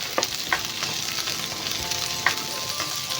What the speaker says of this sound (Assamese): এই চব্জিখিনি অকণমান হাফ বইল কৰাৰ নিচিনাকৈ অলপ সময় ভাজি থাকিব লাগিব।